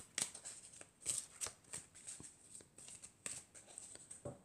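Tarot cards from a kindness deck are shuffled by hand close up: soft riffles and flicks in short, irregular bursts, quiet and alone.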